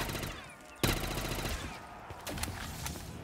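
Automatic gunfire in a zombie video game with 1000-foot-tall zombies, a sharp loud burst followed by rapid rattling shots and a few scattered cracks, close and prominent.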